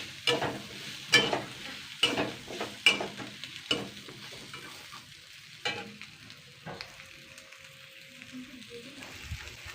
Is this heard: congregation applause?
no